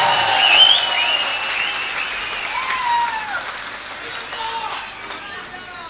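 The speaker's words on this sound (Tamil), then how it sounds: "அவருக்கு ஒரு பலத்த கரகோஷத்தை நாம் இப்போ கொடுத்தாக வேண்டும்" An auditorium audience of students applauds a tribute to scientist Abdul Kalam during a comedic motivational speech, with soft, diffuse clapping beneath high, sweeping whistles and cheering voices.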